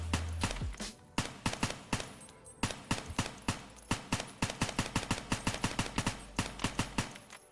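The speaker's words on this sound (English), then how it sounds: "Throw it into single fire for now. I'll show you what it looks like." An M4A1 rifle fired in single shots in Escape From Tarkov, a long series of sharp, loud reports, irregularly spaced at first and then coming in a quicker steady rhythm of taps.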